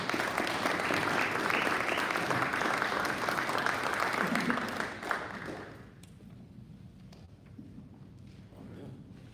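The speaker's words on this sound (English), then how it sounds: "Let's give her one more round of applause" An audience at a Rotary club meeting breaks into sustained applause after a presentation, loud and steady for several seconds before fading away into quieter room tone.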